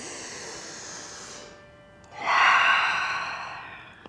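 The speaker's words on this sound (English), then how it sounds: "Two more inhales and exhales." A deep breath during a yoga session: a long airy exhale fades out, and after a short pause a fuller, louder breath swells and slowly trails off, close and with no talking.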